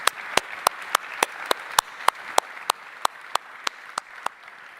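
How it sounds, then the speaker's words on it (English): A conference audience claps for the panelists, a sparse, even run of distinct handclaps about every quarter second, fairly close and slowly tapering. "I would ask another round of applause for all the panelists, the participants, the staff, and the organizers of this thing."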